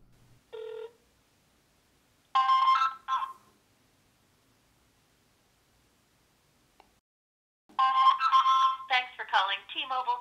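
Phone call to T-Mobile placed on an iPhone speakerphone: a short tone, then bursts of ringback and a recorded voice with long silent gaps between, thin and tinny through the speaker.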